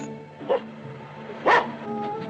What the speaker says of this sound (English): Your cur would bark?